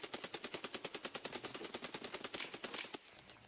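Rapid automatic gunfire in a video game shooting through a bush: one long even burst of close, sharp shots that cuts off abruptly near the end.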